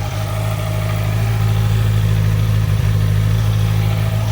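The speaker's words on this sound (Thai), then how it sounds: "มาฟังเสียงรอบเดินเบาครับผม" A 2017 Honda CB650F motorcycle engine idles steadily at close range, a continuous low throbbing hum with no revving and no voices.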